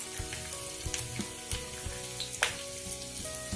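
Sliced almonds, pistachios and dry dates fry in a pan on a low flame, giving a steady soft sizzle broken by small crackling pops and a few scraping stirs.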